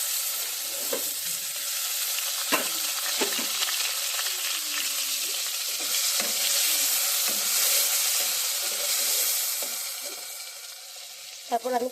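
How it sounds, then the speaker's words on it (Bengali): Vegetable stems and potatoes fry in oil with a steady broadband sizzle, close and continuous, with scattered clinks and stirring scrapes throughout and no talk. "এখন আমি ডাঁটা আলুটা একটু তেলে ভেজে নেব।"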